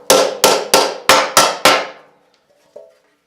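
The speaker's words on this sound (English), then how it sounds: "So I'm just going to give it a couple of whacks." Six sharp, evenly spaced hammer whacks ring out on a bent metal lip during work on a 401 Nailhead engine, each blow loud and close with a short decay, followed by quiet and a faint knock.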